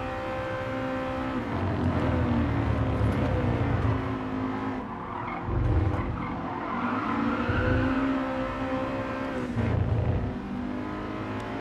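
A Honda race car's engine revs hard and wails through wheel spin and tire squeal in Gran Turismo Sport, the loud, steady engine tone rising and falling through corners with brief dips, close and continuous throughout.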